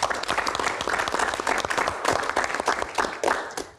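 Dense, steady applause fills an Indonesian Q&A event hall for a singer, with many hands clapping at once and a faint voice or two under the clapping.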